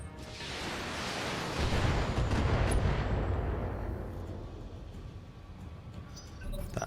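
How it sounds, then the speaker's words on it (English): Heavy sustained gunfire from defensive towers in the BattleTech video game, a dense roaring barrage of overlapping shots that swells loud then slowly thins and fades, with no talking. "Is this from the towers? That's a lot of firing."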